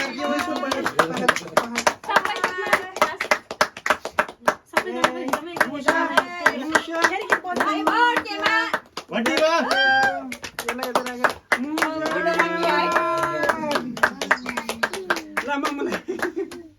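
At a baby girl's first birthday party, people sing loudly while rhythmic hand claps sound close by beneath the voices.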